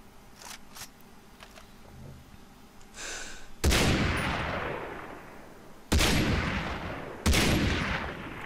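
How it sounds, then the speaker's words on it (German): Three loud, booming gunshots from the video game Far Cry 3 ring out with long decaying echoes, preceded by quieter clicks and a brief softer burst. "wie viele Schüsse!"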